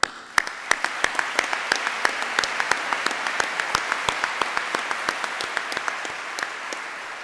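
Audience applause in a Harvard design school lecture hall: a sustained, even wash of many hands, fairly distant, punctuated by a few sharp, regular individual claps standing out above it throughout.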